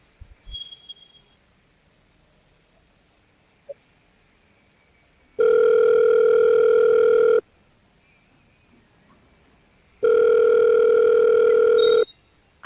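Telephone ringback tone during an outgoing call: two long, steady buzzing bursts of about two seconds each, separated by a few seconds of near silence, loud and clear.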